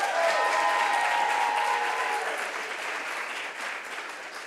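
A crowd claps for a prize winner at a business plan competition finals, sustained even applause from many hands, slightly easing off near the end.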